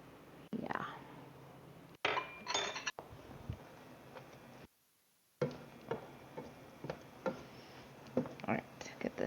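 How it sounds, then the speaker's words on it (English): A utensil breaks up ground turkey in a pan for a keto meal, with scattered scraping clinks and taps against the pan, close, under a soft voice. "get this turkey broken up some more"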